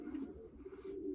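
Racing pigeons cooing softly, a low, faint throaty coo heard up close with no talk.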